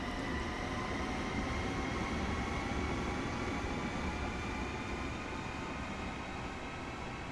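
Electric train on the Northeast Corridor between New York and Stamford passes close and loud, a steady high whine layered over continuous rumbling wheels and rail noise throughout.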